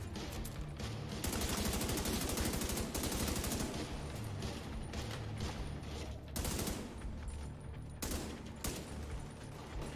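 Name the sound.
machine gun fire, from video game The Division 2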